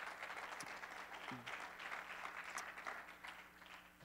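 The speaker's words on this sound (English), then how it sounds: "give him a great, great hand clap of praise" A church congregation claps together in praise, a faint, distant wash of applause that stays fairly even throughout.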